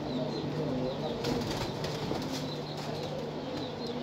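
Breeder pigeons in a loft give soft, low cooing and brief wing flutters. The sound is faint and steady, with no talk over it.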